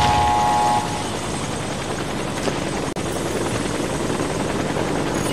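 A helicopter in the video game Warface gives off a loud, steady rotor drone throughout, opening with a short tonal sound and dropping out for an instant partway through, with no voices.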